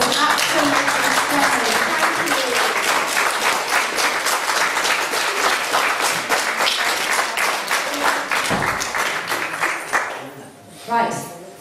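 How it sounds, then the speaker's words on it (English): Loud, sustained applause from a crowd after a belly dance performance, dense clapping throughout that thins out near the end, with voices mixed in. "A big applause for Marianne."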